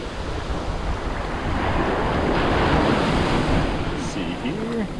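Ocean surf rolls in along Manasota Key beach on Florida's Gulf coast, a steady loud wash of breaking waves with wind buffeting the microphone and a faint voice briefly under the roar.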